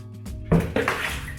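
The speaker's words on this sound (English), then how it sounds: "if you want to shower, you pick up that bucket, put it over your head, and it goes down that hole" Water poured from a bucket in a simple bathroom with a floor drain, a sudden close splash and gush that starts abruptly, then a second pour and continued trickling and splattering.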